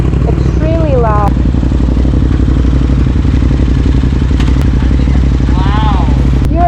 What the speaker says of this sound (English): This baby has a brand new ST Project exhaust on and it's extremely loud.